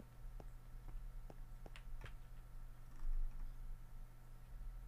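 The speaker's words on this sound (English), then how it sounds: "What's up, kitten?" A cat purring softly, a low steady rumble with faint clicks and ticks over it, quiet and close, with no speech.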